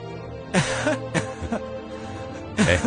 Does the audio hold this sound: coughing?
yes